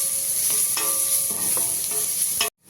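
Garlic fries in hot oil in a pan for a mutton and buttermilk dish, a steady close sizzle broken by a few soft stirring scrapes, then it cuts off abruptly.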